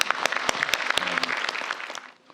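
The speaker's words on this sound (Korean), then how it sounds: "박수 쳐주세요" Scattered audience applause at a Korean public event, a few sharp, distinct claps over a softer bed of clapping for about two seconds before it fades out.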